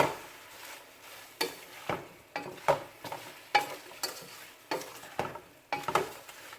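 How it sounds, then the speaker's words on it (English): Shrimp and peppers being stirred in a frying pan, a utensil scraping and turning them in repeated strokes over a faint background sizzle, with no talking. "Just gonna just mix it in."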